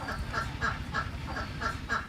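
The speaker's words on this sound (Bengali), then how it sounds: "কৃষক সজল মিয়া তার খামারে প্রায় ৩১০০ হাঁস রয়েছে" Ducks on a large farm of about 3,100 birds beside a haor wetland in Netrakona, quacking in a steady rhythmic chorus of repeated calls at close to mid distance, with no voices.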